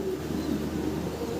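Fancy pigeons at a breeder's loft coo softly and continuously against a steady low hum, fairly faint and close, with no voices.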